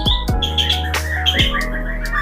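A captive white-rumped shama sings close by, loud and clear, with varied whistled phrases and sharp chirps. A steady low hum runs underneath.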